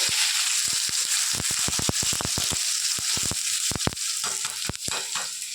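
Eggs fry in a pan with chopped tomato, giving a steady close sizzle broken by many sharp pops and spatters, with no talking.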